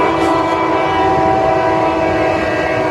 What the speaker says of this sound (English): there goes the freight train right there